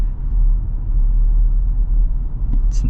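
A 2024 Toyota Tacoma SR5 drives along a road, heard from inside as a steady, loud low rumble of road and engine noise with no talking.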